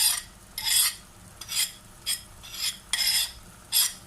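Beef karahi with red chili, salt and turmeric is mixed in a pot, with about seven rhythmic scraping strokes of a utensil against the metal, close and fairly loud, with no voices.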